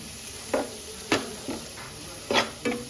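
Spices with coriander powder fry for aloo kurma in a pan, with a soft sizzle broken by a few distinct scrapes and clinks of a spoon stirring against the metal.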